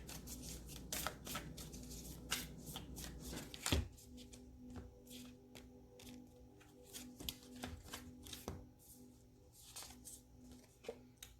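Tarot cards being shuffled and drawn by hand: quick, soft riffling snaps and papery flicks in irregular bursts, close and fairly quiet, with one sharper slap partway through.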